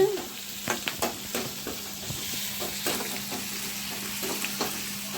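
Brinjal pieces crackle and sizzle in a hot pan with oil, a steady close hiss broken by scattered sharp pops and light stirring clicks, with no voices.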